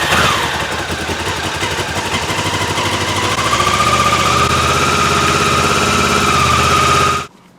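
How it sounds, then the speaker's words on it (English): Honda CB500 motorcycle engine running at a steady idle, a loud close mechanical rumble with a faint whine, continuing evenly for about seven seconds before cutting off abruptly. "I'm just going to fire her up quickly"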